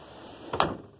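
A car door on a 1958 Chevrolet Impala shuts once with a single solid thump near the middle, close by and fairly soft, over quiet background.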